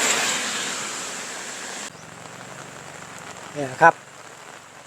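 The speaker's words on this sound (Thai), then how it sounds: "วันนี้ฝนตกตั้งแต่เช้าเลยน่าจะทั้งวันมั้งวันนี้" Rain falls steadily around a house as a soft, even hiss that drops to a quieter patter partway through, and someone speaks briefly near the end.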